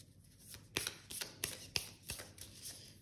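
Tarot cards from the major arcana being shuffled by hand, a series of soft riffling bursts and sharp flicks spread over a few seconds, faint and close with no talking.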